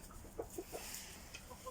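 Roosters eating an oatmeal mash in a poultry yard give a few soft, short clucks spaced apart over a faint background hiss, quiet and somewhat distant.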